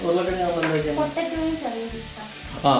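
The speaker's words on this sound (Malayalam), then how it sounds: "സവാള ഒന്ന് വഴണ്ട് വരുമ്പോഴത്തേക്കും" Sliced onions saute and sizzle in a pan for chicken samosa filling, a steady frying hiss broken by rhythmic stirring scrapes.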